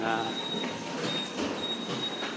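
At Everland's safari area, a train rolls past with rumbling wagons, clattering wheels and a thin high squeal over the rail noise, while people talk in a busy crowd around it.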